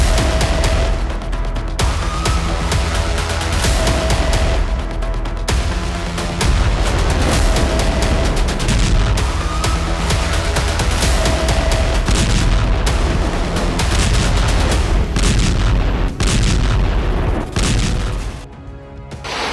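A Msta-S self-propelled gun firing in a war zone: loud, heavy booms repeat every few seconds over continuous rumbling and crackling noise.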